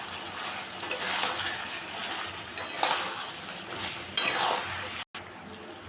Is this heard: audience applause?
no